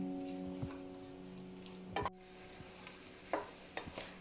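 Tomatoes and onions sauté quietly in a pan for a modha fish dish, a soft, low sizzle broken by occasional spatula scrapes and taps against the pan.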